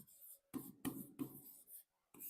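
Writing strokes on a board during a Class 10 maths lesson on quadratic equations, a few quick scratchy marks in bursts with short pauses between, close and fairly quiet, with no talk.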